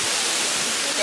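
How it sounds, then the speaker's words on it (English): A gentle waterfall on a muddy trail in the Dominican Republic gives a dense, steady rushing hiss close by, unbroken and even throughout the short stretch. "This is a more peaceful waterfall."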